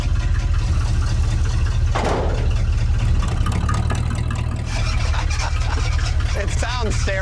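A restored junkyard square body tow truck idles loudly with exhaust leaks, a rough, heavy engine rumble that runs throughout while people talk over it.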